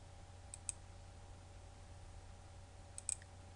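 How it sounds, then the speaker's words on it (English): Computer mouse clicks while working in Flash animation software: two faint, quick pairs of small clicks about two and a half seconds apart, over a steady low hum. "Now I'm going to right click the frame and click Split Tween."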